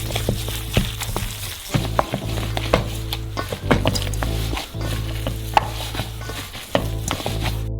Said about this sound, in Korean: 다진 고기로 신선한 칠리페퍼와 당연히 소금, 끝. 손으로 잘 섞어주세요.